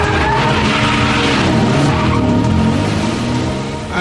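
A Lamborghini sports car on a test drive along winding roads near Sant'Agata, tires skidding and squealing loudly under a strong engine roar that eases off toward the end.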